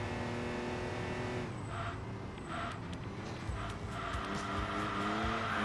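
A high-pitched, nearly fully upgraded Saab racing engine in the video game Enthusia Professional Racing whines and shifts up, with tire screeches and other engines roaring nearby in a continuous, busy mix.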